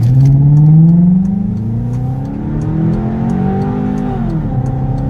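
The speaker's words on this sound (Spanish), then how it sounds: "El motor W8 del Passat es una joya compacta y suave que produce" A Volkswagen Passat with a W8 engine revs up close: a rising engine note that climbs, eases off and swells again over about five seconds, loud and without speech.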